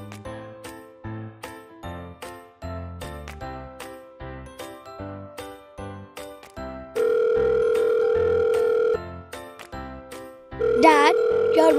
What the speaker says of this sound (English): Dad, your mobile is ringing.